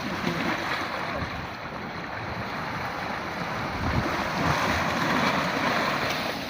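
Sea waves at the spot near Karachi where two rivers meet the sea, a continuous broad rushing wash of surf with steady wind noise buffeting the microphone, loud and unbroken throughout.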